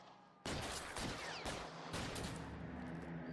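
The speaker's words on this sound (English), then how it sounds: "This is a shotgun." Shotgun blasts in a video game, three or four loud, sharp reports about half a second apart after a quieter lead-in, each with a lingering tail.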